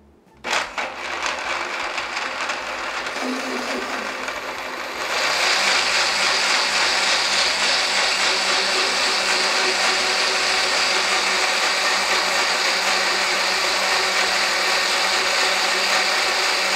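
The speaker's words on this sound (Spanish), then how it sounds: "y vamos a licuar" A kitchen blender whirs continuously while blending cooked quinoa and spinach with a little water for a cream soup, starting with a sharp click and rising to a louder, steady high-pitched roar after a few seconds.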